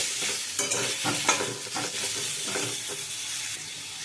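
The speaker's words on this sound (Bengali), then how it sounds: "একটুখানি সাঁতলিয়ে নেব আমগুলোকে" Raw mango pieces with a pinch of turmeric sautéing in a pan, a soft steady sizzle broken by several scraping stirs of a spatula, close and fairly quiet.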